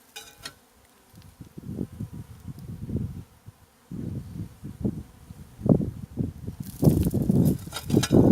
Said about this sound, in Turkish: Arı deli.